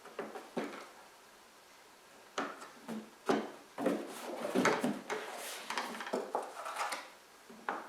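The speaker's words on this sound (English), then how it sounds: "Now you can attach your doors to the top of the mailbox." Plastic mailbox doors being fitted onto the top of the box, a series of sharp hollow plastic clicks, knocks and scrapes at irregular intervals, fairly close and quiet with no talking.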